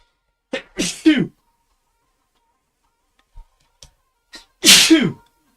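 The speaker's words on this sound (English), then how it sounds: "I need to sneeze" Two sharp sneezes burst out close up, one early and a bigger one near the end, separated by quiet with faint ticks between.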